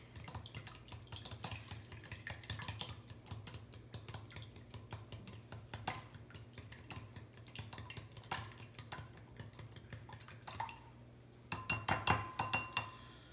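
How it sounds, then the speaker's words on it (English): Eggs being whisked in a bowl for an omelet. Quiet, rapid clinking taps of a whisk against the bowl form an irregular rhythm over a low background hum, with a busier flurry of clinks near the end. "once you have the eggs in the bowl, you're going to want to whisk them"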